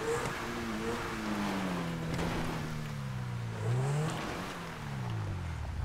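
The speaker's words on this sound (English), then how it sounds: "This is a really fast Lamborghini though." A fast Lamborghini engine in GTA V, a steady droning hum that rises and falls in pitch as the car accelerates and shifts, heard alone at moderate volume.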